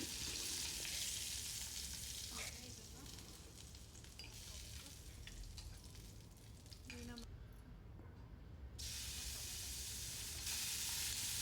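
Capsicum fries in a kadai for a restaurant-style kadai paneer, with a loud, continuous crackling sizzle broken by occasional stirring scrapes, and a voice speaking faintly at times.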